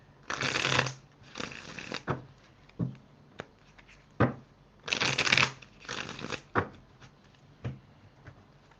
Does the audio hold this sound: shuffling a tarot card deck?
yes